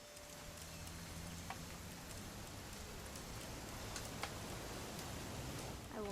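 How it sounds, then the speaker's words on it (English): Steady rain falls in the video game What Remains of Edith Finch, a soft, even hiss of drops throughout with a few faint taps and a low hum underneath. "It's gonna rain the whole weekend, isn't it?"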